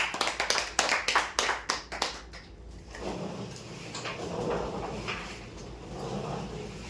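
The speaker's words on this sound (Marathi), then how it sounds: "जोरदार टाळ्या त्यांच्यासाठी" Loud applause for a prize winner at a weekly lucky draw, with sharp, rhythmic clapping up close that fades into a broad, sustained crowd noise and murmur.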